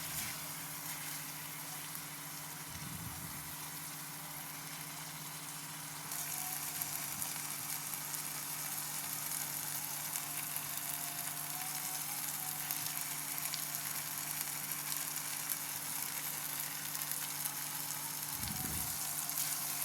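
Tomatoes frying with turmeric, chilli powder and coriander powder for a pea kurma sizzle steadily and softly in a pan, with a couple of brief stirring scrapes and no talk.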